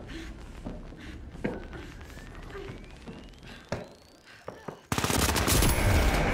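Gunfire in the video game The Finals, scattered shots and thuds with footsteps and a rising whine, then a loud sustained burst of rapid fire at the end.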